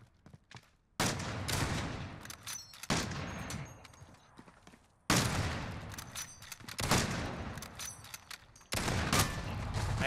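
Bursts of gunfire from the video game Call of Duty Modern Warfare, with several loud sustained volleys of rapid shots separated by brief near-silent gaps.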